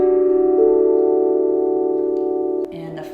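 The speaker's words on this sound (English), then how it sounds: "So a tongue drum sounds like this." A tongue drum sounds one sustained, steady tone with clear harmonics. It rings alone for nearly three seconds, then fades as a second, lower note begins.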